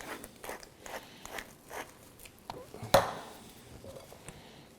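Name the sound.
mixing salmon popper filling with coarse pepper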